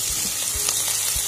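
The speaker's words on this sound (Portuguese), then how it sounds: "Olha, tá fritando o frango." Chopped, pre-boiled chicken frying in olive oil in a pan, a loud, close, continuous sizzle with soft low thumps from stirring.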